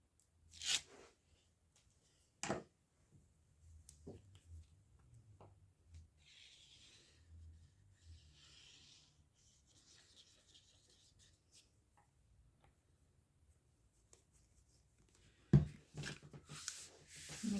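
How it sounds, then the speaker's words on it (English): Tape is torn and pressed down during a vintage summer craft project, producing a few sharp ripping bursts separated by quieter scratchy rubbing and handling noises, close and fairly faint, without talking. "we're just going to add tape just to help hold it down"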